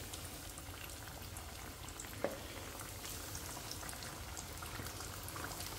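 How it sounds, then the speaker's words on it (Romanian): Chicken drumsticks sizzle in a frying pan, a soft, steady crackle and hiss throughout with one small pop partway through. "Punem și carnea la prăjit."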